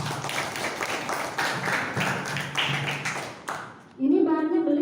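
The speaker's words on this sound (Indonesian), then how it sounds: "Oke, berikan tepuk tangan." Applause from students in a classroom, a short burst of fairly close, uneven hand clapping for about four seconds before a voice takes over.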